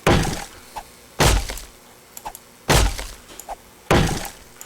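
Heavy chops breaking open a wooden crate in 7 Days To Die, four loud cracking thwacks about a second apart, each followed by small clattering debris, close and prominent.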